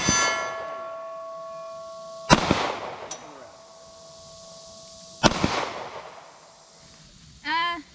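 Two sharp, loud gunshots from a small handgun at a shooting range, spaced about three seconds apart, each with a ringing metallic tail, followed by a brief voice.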